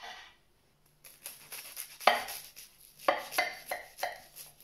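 A knife cuts through a steak, ale and Stilton pie with crumbly, flaky pastry: a series of close, crunchy slicing strokes and crackling crust breaks, a few seconds of irregular rhythmic scraping after a quiet start.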